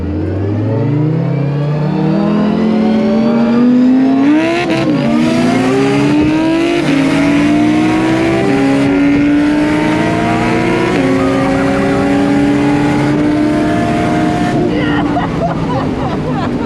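Nissan R32 GTR racing at a roll racing event, its engine loud and close as it revs hard through rising gear pulls, each upshift dropping the pitch before it climbs again.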